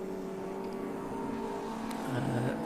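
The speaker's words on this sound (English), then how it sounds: "Car's heading down into Abbey." A race car at the Silverstone GP circuit heads down toward Abbey, its engine a steady, droning whine held at a distance. Near the end, the pitch swings lower as it goes by.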